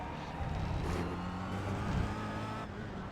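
A Kia Optima race car in the iRacing game at the Navarra circuit holds a steady engine drone with slight rises in revs, moderately loud and without talk.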